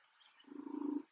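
A cat purrs very faintly and close by, its soft rhythmic rumble swelling for about half a second before fading out.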